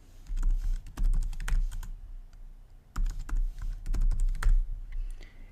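Quick clattering keystrokes on a computer keyboard as a password is typed, two bursts of close, crisp tapping separated by a short pause.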